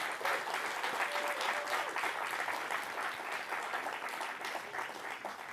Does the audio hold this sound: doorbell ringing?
no